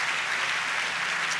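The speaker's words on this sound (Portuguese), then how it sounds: "Você pode aplaudir Jesus bem forte?" A congregation applauding during an Easter worship event, heard as a soft, even hiss of many distant hands clapping without pause.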